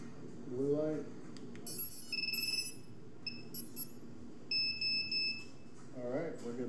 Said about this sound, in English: I like how loud the beeper is.